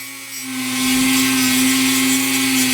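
A Dremel rotary tool with a sanding attachment whines at a steady high pitch as it spins up and sands wood, loud and close, with no talking.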